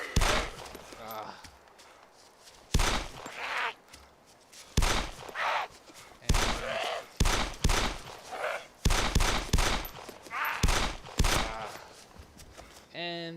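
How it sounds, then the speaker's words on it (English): Gunshots aimed at zombies in the DayZ Epoch video game ring out in loud, sharp bursts and single reports spaced irregularly. Between them come short, quieter gaps. "I've shot a lot and I've made a lot of noise, so players hear the bullets."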